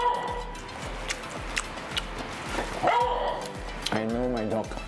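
A dog barks excitedly indoors during a meal of flathead fish and vegetable tempura, giving a quick series of close, loud barks and yips with a rhythmic pattern that ends in whimpering tones.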